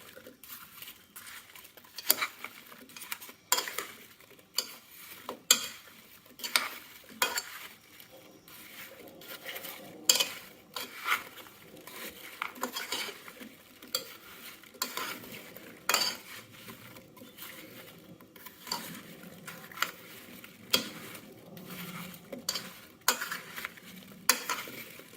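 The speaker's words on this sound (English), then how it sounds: "So I put like about half a cup of palm sugar or coconut sugar, and then you just give it a mix." Palm sugar is stirred into a vegan apple crumble mixture, with repeated scraping and clinking of a utensil against a bowl nearby in an uneven, continuous rhythm.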